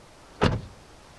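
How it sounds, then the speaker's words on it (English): A door on a 2018 Mini 5-door car shuts once with a single solid, close thud that fades quickly against a quiet background. "Have a listen to these doors."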